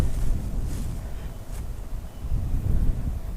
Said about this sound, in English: There's a lot of wind around here today.